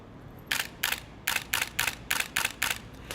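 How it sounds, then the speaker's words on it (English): Nikon D800 DSLR shutter firing eight times in a steady, quick rhythm, each release a sharp, close, slapping snap over near silence. "And then this is the D800 shutter."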